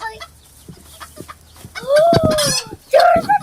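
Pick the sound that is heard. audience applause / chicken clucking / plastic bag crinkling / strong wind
chicken clucking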